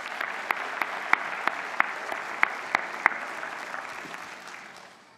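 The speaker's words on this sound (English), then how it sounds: "Give yourselves a round of applause." College convocation crowd applauds the graduates in a broad continuous roar of clapping, punctuated by a rhythmic series of sharp loud claps or thumps roughly every third of a second, fading away at the end.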